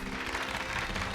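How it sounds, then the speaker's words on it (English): Steady, dense applause in a Pokémon video game fills the moment, a continuous wash of many hands clapping at an even level with no voices. "Give Pikachu a round of applause, everyone."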